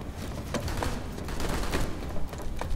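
Gunfire in the PlanetSide 2 online shooter, a faint distant fusillade of scattered shots and bursts over a dense background din, with no voices.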